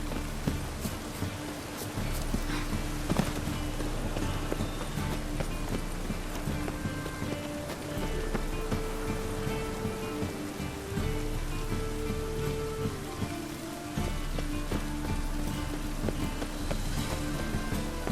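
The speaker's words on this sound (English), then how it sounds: "It just rains and rains." Steady rain falls in The Witcher 3, a dense wash of hiss and patter that fills the whole scene, with hoof-like clopping and other game sounds mixed in underneath.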